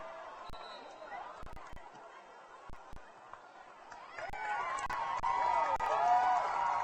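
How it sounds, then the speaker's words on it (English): A home crowd at a high school football game in Clay Center rises in cheering and applause after a holding penalty flag, a broad crowd roar that builds and grows louder over the second half. "the official gets a standing ovation here from the Clay Center crowd"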